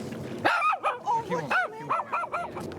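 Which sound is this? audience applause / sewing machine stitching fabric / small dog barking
small dog barking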